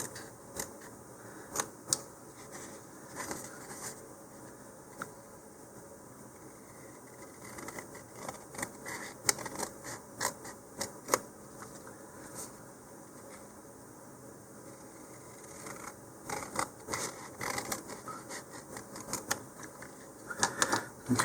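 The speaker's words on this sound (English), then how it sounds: "I'm going to cut those fairly close to the color." Scissors snip model rocket decal sheets up close, quiet intermittent clicks and crisp cuts in small clusters with pauses between, alone against a faint hum.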